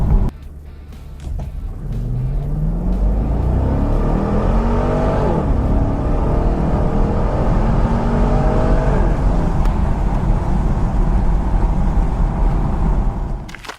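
A 2012 Chevy Camaro 45th Anniversary Edition accelerates hard at high altitude, its engine note climbing through rising sweeps as it shifts through gears, loud and continuous with no talk.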